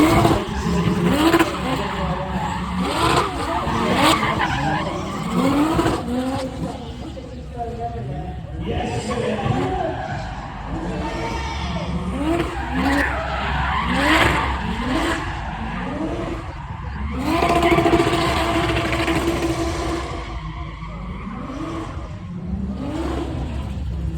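Cars drifting around a drift ring at the British Motor Museum, engines revving hard with continuous, repeated tyre squeal and skids, loud and close, while people talk and cheer over the noise.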